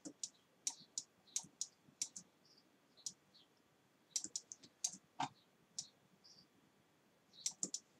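A computer mouse clicks repeatedly during dragging work in Photoshop, producing crisp, close, isolated clicks at irregular intervals, sometimes in quick pairs, against a quiet room background.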